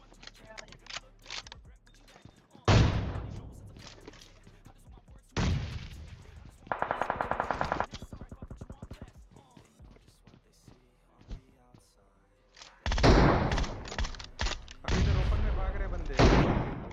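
Gunfire from a firefight in the battle royale game PUBG Mobile: loud bursts of shots and booms in clusters, separated by quieter gaps with lighter movement sounds.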